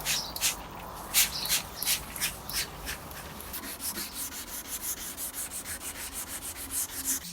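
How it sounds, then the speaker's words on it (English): Wet scrubbing of painted weatherboards with a nylon pad embedded with grit, a steady run of close, rhythmic rubbing strokes that become quicker and more even toward the end, with no talking. "we're giving it now a wet scrub"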